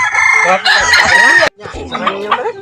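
Rooster crowing loudly and close, a full drawn-out crow followed by clucking calls, with people talking around it.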